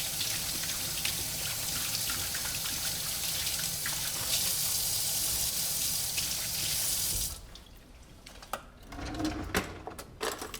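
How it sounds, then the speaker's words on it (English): Tap water runs steadily over hands being rinsed at a kitchen sink, a loud continuous splash that stops after about seven seconds, leaving quiet handling noises. "Rinse my hands."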